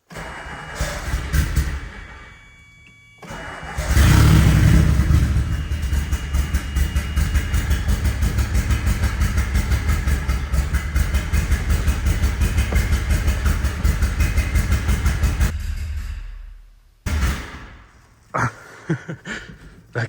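A twin turbo DeLorean that sat for 40 years cranks and fires up, then runs loud and close with a rapid pulsing rhythm as gas is applied, cutting out before a few short restart bursts.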